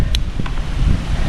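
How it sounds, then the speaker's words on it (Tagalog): Strong wind buffeting the microphone outdoors, a loud, low, continuous roar with gusty fluctuations and a couple of brief higher hisses. "malakas po yung hangin"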